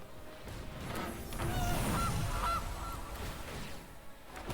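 Goose honks from a digital card game, a couple of short nasal calls rising over a busy mix of game sounds and chimes, fairly loud at the center of the clip.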